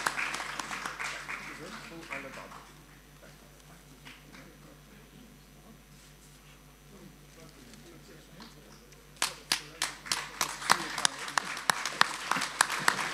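Audience at a concert hall applauding performers after a singing show, light scattered clapping under a speaking voice at first, then louder, sharper claps picking up toward the end.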